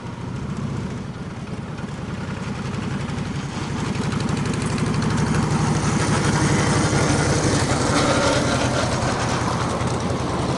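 Engine of a Mini Cobra car rumbling steadily with back compression, a loud continuous drone that swells slightly and holds, with no voices over it.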